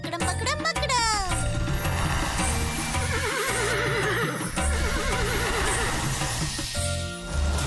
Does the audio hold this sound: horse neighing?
yes